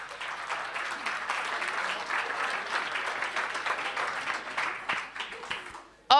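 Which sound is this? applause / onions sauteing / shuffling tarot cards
applause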